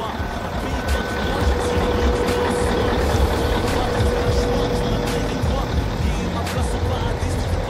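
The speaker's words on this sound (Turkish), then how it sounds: "Evet, motor sesini dinleyelim birazcık." A double-axle truck's engine runs at a steady, loud idle close by for several seconds, a constant rumble with a faint tonal whine, while voices can be heard in the background.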